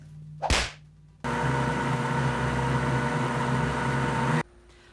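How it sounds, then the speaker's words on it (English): A blender whirs steadily while mixing a coffee protein shake of coffee, milk and vanilla flavor. The motor hum runs loud and even for about three seconds and then cuts off, after a brief whooshing sound near the start. "while the blender is working its magic"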